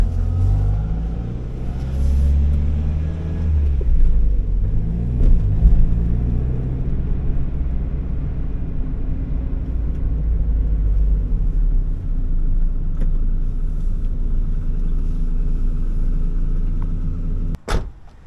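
A 1991 Mazda Miata with a 5-speed gearbox cruises a rural road, its engine a steady, loud low rumble with road noise, ending in a sharp click near the end.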